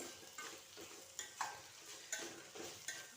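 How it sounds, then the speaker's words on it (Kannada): Avarekai (field beans) fry in hot oil with a steady low sizzle, broken about every second by louder scraping stirs in the pan, close and fairly quiet. "ಚೆನ್ನಾಗಿ ಫ್ರೈ ಆಗಬೇಕು ಎಣ್ಣೆಯಲ್ಲೇ"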